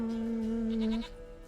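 A single drawn-out goat bleat in The Witcher 3 video game, close and clear, holding steady for about a second before cutting off into quiet ambience.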